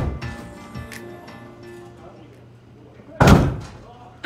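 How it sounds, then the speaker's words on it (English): A person throws their body hard against a shut door: one loud, heavy slam-thud near the end, preceded by a few lighter knocks and rustling, with a second impact just starting at the cutoff. "Shut the door and body slam it."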